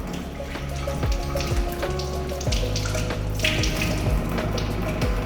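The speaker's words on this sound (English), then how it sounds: "Wet hands with water." Tap water runs steadily into a sink while hands are wetted under it, a continuous close splashing stream with small shifts as the hands move.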